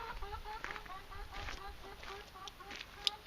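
Chickens cluck and call in short, repeated bursts close by, with a sharp chirp near the end and a faint background hum.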